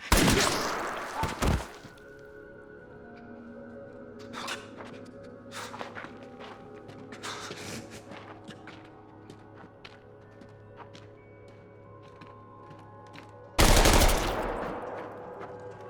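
Gunfire from a Squid Game scene, in which soldiers are shot: a loud burst of shots opens, with scattered sharp cracks and clatter in between, then another loud blast near the end over a low rumbling background.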